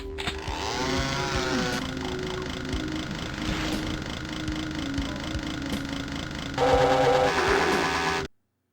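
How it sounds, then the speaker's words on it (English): Harsh buzzing chainsaw revving in a Doom game, layered with mechanical grinding and clattering effects, loud and continuous before cutting off abruptly. "Is that a chainsaw?"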